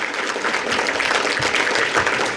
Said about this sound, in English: take a round of applause from me